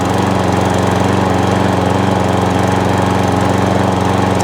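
A petrol lawn mower engine, a salvaged machine with a suspected carburetor fault, runs steadily at high revs with a constant loud drone and rapid rhythmic pulsing, close by and with no talk.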